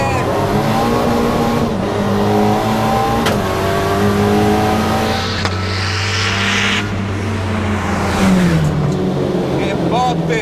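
Ford Escort MK1 race car with a 540 hp engine, loud, close revving that rises and falls in harsh surges, punctuated by sharp bangs, with excited talk over it.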